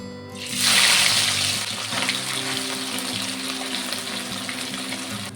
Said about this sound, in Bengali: আমি বাকি মাছগুলোকে একইভাবে ভেজে নেব